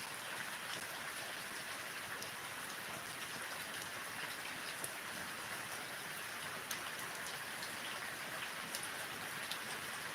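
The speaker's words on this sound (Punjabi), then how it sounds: "ਸਾਡੇ ਵੱਲ ਦੇਖੋ ਮੀਂਹ ਕਿੰਨਾ ਲੱਗਾ ਸਵੇਰ ਦਾ" Morning rain falls steadily outdoors, a soft, even hiss with scattered faint drips throughout and no other sound standing out.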